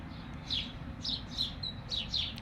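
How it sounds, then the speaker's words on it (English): Birds at sunrise in Arizona chirp in repeated quick bursts, several calls spaced about half a second apart, faint and fairly distant over a soft background hum. "The bird sounds are in stereo this morning."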